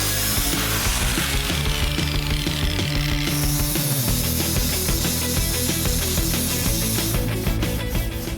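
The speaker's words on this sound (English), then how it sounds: "Now to knock the welds down, I'm using a 40 grit flap wheel." A 40-grit flap wheel grinds down welds on a truck roll pan, a loud, continuous abrasive whine that shifts pitch as pressure changes, close up and without pause.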